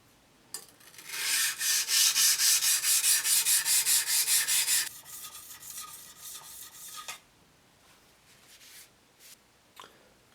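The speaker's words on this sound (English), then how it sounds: "So I'm just going to go through the grits and flatten them on my stones." A Keen Kutter K4C plane blade is rubbed back and forth on sharpening stones to flatten it, a fast run of rhythmic scraping strokes, loud and close, then a few slower scrapes and scattered light clicks, no voices.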